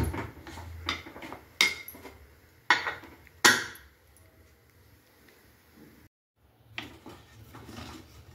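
Pressure cooker lid being fitted onto a cooker in a home kitchen, heard as a few sharp metallic clanks and clatters at close range, separated by quieter handling rustle and short pauses.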